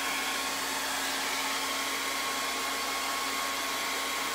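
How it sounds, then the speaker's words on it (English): A hair dryer blows steadily to dry wood stain on a board sign, a constant loud whooshing hiss that carries on without a break. "Can you hear me when I talk over the hair dryer?"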